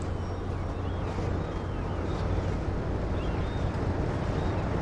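Train Sim World locomotive on the West Somerset line running at full throttle, a steady low engine drone with a heavy rumble that holds evenly and fairly loud throughout, with no talk.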